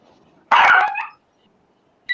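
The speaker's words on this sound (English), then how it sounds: "That's the dog." A single sharp dog bark bursts out close by, followed by a short yelp after a quiet pause; no one talks.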